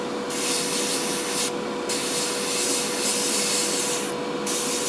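An airbrush sprays paint onto a Warhammer Underworlds miniature, a loud steady hiss of air broken by several brief pauses, close and alone.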